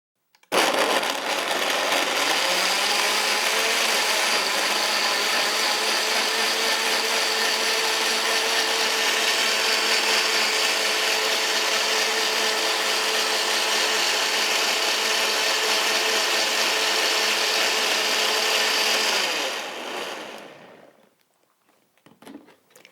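A blender whirs loudly and steadily for about twenty seconds, blending raw garden vegetables for soup, then winds down and stops.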